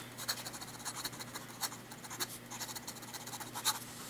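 A vintage 1940 Waterman Commando fountain pen scratches rapidly across paper in fast strokes, quiet and close, with a busy irregular rhythm of nib scrapes and no talking.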